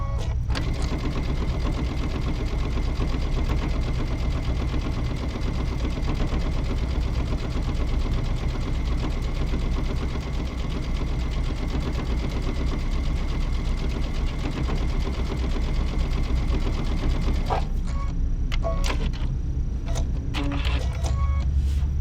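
A sewing machine runs steadily for about seventeen seconds, a close, loud, even mechanical whir stitching quilt-as-you-go fabric pieces for a zipper cosmetic bag, then stops, leaving a few light handling clicks.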